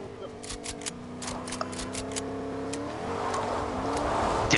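A video game car engine hums steadily and climbs in pitch as it revs up, with rising whining tones, while players talk over it.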